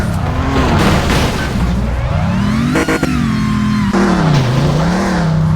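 An all-wheel-drive hatchback in a tuning racing game revs hard and continuously, its engine note climbing and falling with gear changes and a brief dip midway, loud and close with no talk over it.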